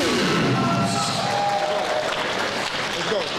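A hometown crowd in Houston applauds and cheers for local boxer DaVon Mims at a combat sports event, a broad, steady wash of clapping and crowd noise with an announcer talking over it.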